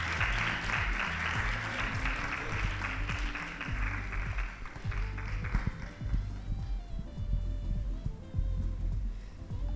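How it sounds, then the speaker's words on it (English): An audience applauding at a women's conference, a sustained round of clapping over music that keeps going the whole time and fades slightly toward the end. "Please keep the applause going."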